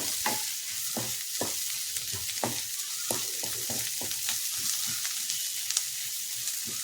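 Onions sautéing in a pan for a meat curry sizzle steadily up close, broken by repeated scraping stir strokes at an irregular rhythm, with no voices.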